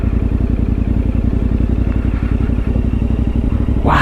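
A motorcycle rides over slippery stones on a road in Norway, its engine chugging loud and close in a steady pulsing rhythm with faint clattering underneath.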